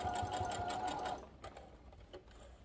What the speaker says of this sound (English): so we're going to forward stitch, and now we're going to back stitch.